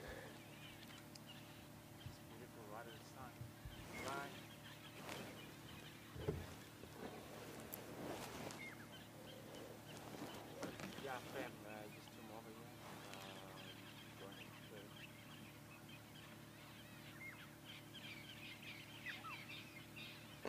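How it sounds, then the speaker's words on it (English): A dawn chorus of francolins, starlings and orioles calls and chirps from several directions over a low steady hum, with scattered harsh calls and whistles forming a busy morning chorus. "can hear the dawn chorus of birds that suddenly decided to wake up"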